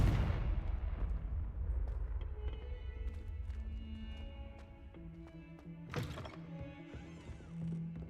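The Confringo fire spell in Hogwarts Legacy bursts with a heavy booming blast that rumbles and fades. A second sharp crack of impact follows a few seconds later over ringing magical tones.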